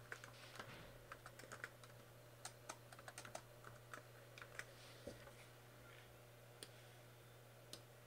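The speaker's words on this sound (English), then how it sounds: "I'm going to go ahead and type in my text" Quiet, irregular clicking of keys being typed on a computer keyboard in bursts, close and faint over a low steady hum.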